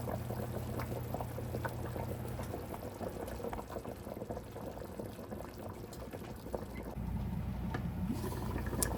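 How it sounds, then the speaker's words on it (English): A pot of Jamaican pumpkin beef soup bubbles and burbles steadily as dumplings go in, with soft splashes and plops over a continuous low boiling rumble, close by and without talking. "I'm adding the dumplings to the pot."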